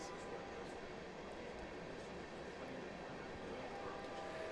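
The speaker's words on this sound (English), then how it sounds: "At least that train is moving and not blocking traffic on Owen K. Garriott Boulevard" A train rumbles past on the railroad beyond the outfield fence at a college baseball game, a faint, distant steady rolling drone heard from the ballpark.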